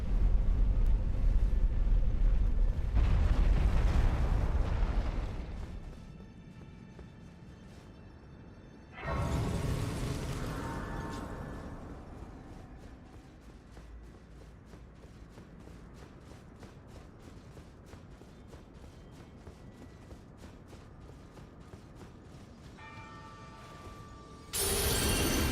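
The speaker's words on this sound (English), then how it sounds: "This elevator ride takes so long." An elevator ride in Elden Ring, with a heavy rumbling onset that settles into a long, steady low drone under a faint ticking creak, and another loud swell partway through before the rumble returns.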